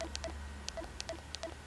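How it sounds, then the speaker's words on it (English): An old flip phone plays its ringtone: a faint, tinny loop of short electronic chirps and beeps that repeats about every third of a second. "And oh, I think that was a ringtone."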